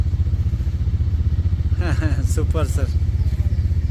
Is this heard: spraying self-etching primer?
no